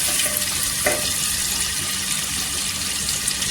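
Peanuts and rice for pulao sauté in a pan with a steady, dense sizzle and an occasional faint scrape, continuous and close with no talking.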